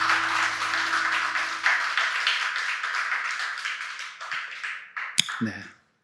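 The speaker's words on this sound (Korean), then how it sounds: "우리 박수 한번 치겠습니다" A church congregation claps during a sermon, with dense, sustained applause over a held tone at the start. The clapping thins out and ends in a few sharp knocks before silence.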